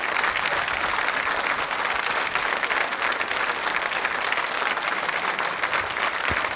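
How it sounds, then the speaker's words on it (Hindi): A steady wash of audience applause at a quiz show, sustained and dense across the whole stretch with no talking over it. "तालियां बजाकर जोरों से एक बार आरती जी की"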